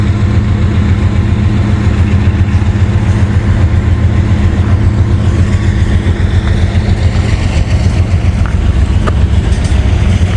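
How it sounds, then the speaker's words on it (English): Train locomotives rumble past in Kentucky or Ohio, a loud, dense, unbroken low diesel roar holding steady and near for the whole stretch, with no voices on top. "listen to those locomotives"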